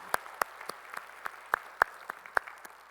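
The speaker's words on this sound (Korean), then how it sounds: "우리의 숨소리 하나까지도 영광 받으시는 우리 주님께 영광의 박수 올리겠습니다" A congregation at a Sunday church service claps in a faint, steady rhythm of evenly spaced claps, heard from a distance in a reverberant hall with no talking over it.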